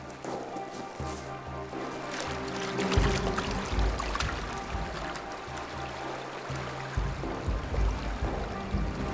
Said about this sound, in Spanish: La corriente es muy fuerte